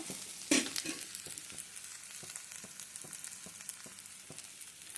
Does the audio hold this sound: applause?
no